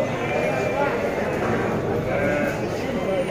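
Garut sheep at the Tanjungsari livestock market, with bleats rising over a dense, steady crowd din and nearby talk.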